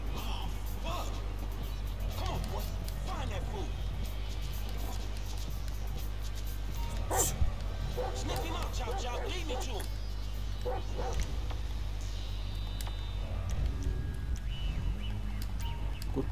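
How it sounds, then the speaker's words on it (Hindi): A dog barks and yips repeatedly in Grand Theft Auto 5, the bursts scattered over steady low game ambience, with a voice talking at times. "कुत्ते दौड़ कुत्ते।"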